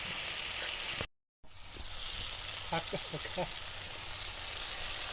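Food frying in a pan, giving a steady, fairly loud broadband sizzle that cuts out completely for a moment near the start, then continues with a few faint crackles on top.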